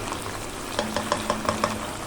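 Sautéed tuna and eggplant being stirred in a pan, a soft sizzle running underneath a quick series of rhythmic utensil taps and scrapes near the end.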